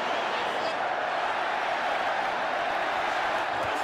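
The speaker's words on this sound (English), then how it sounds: "The crowd roars." A crowd roars in a continuous loud wash at a boxing match in the video game Supremacy Road to Canelo vs. Plant, with a commentator talking over it.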